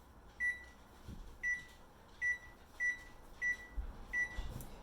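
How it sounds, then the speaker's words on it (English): An oven being set to preheat to 500 degrees gives a row of six short, evenly spaced electronic beeps over a quiet kitchen hum, with a faint clatter near the end. "you start the oven at 500 degrees, just so it starts good and hot"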